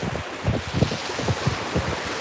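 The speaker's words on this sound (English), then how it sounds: "how it's reflecting on the wet sand here when the waves recede" Ocean waves wash up and recede over wet sand on a beach, a steady breaking-surf roar with repeated soft surges, mixed with constant wind buffeting the microphone.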